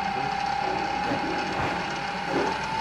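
An SRM electric motor runs at about 300 RPM with a steady mechanical whir and a constant tone, plus a faint ratcheting, gear-like texture. It sounds close and continuous, with no voices.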